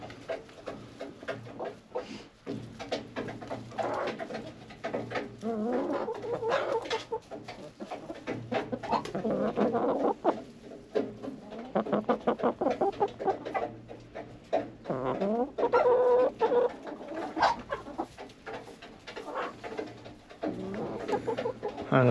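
Chickens and a rooster clucking inside a coop after a snowstorm, busy overlapping clucks and murmuring calls close by, with no voices.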